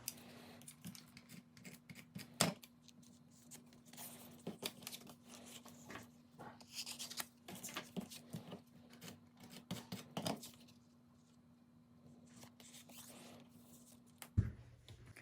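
Scissors trimming paper at a craft table, faint close snips and rustles in scattered short bursts over a low steady hum.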